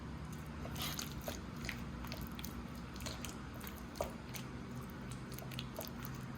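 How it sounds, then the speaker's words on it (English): Close, soft chewing and squishy bites while taste-testing homemade potato salad, with faint crunches and moist mouth noises repeating irregularly and no talk over it. "I'm gonna do a quick taste test."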